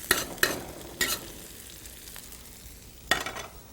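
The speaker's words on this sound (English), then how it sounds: "Next, add your cumin seeds. And saute them till they go brown." Cumin seeds sauteing in a pan give a low sizzle, broken by four sharp scraping bursts of stirring near the start and again toward the end, with no talk.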